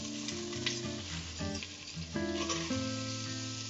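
Ginger garlic paste sautéing in hot oil, a steady close sizzle with scraping stirs and faint background music, no talking.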